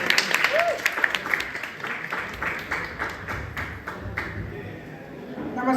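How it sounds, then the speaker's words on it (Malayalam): An audience at a BMCA Onam 2025 inauguration claps a rapid, dense patter of applause to welcome the president, with voices mixed in throughout. "നിറഞ്ഞ കൈയടിയോടെ സ്വാഗതം ചെയ്യുന്നു"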